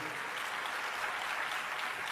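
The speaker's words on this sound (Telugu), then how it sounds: "చప్పట్లు కూడా దేవుని మహిమపరచండి" A church congregation claps together during a sermon, a steady dense wash of applause held evenly through the short stretch, moderately faint and without pauses.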